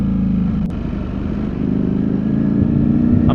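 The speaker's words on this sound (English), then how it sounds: "I'm pushing the bike quite a bit" A Ducati Streetfighter V4S motorcycle ridden hard through New York City gives a loud, continuous engine roar close by, holding steady and rising slightly toward the end, with no voices.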